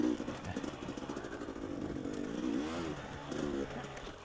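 A dirt bike engine revs and drones through a hare scramble race at Powell Ranch, the throttle rising and falling over a continuous mid-pitched roar.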